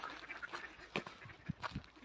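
Several ducks quack at a park pond, a scatter of short nasal calls spread across a couple of seconds, fairly faint and set back from the listener with no talk over them.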